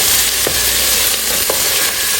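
Chopped onions sizzle steadily in a frying pan with a teaspoon of salt, with a continuous bright crackle and occasional soft stirring scrapes, close and alone without talk.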